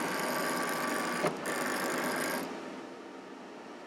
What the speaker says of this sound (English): And I'm going to load this into the machine.